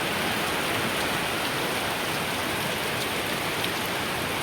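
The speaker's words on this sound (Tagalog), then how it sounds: "Thank you Lord ay tayo pinagbigyan, umulan." Heavy rain pours steadily onto a garden of flowers, a loud, dense, even hiss of falling water with no pauses.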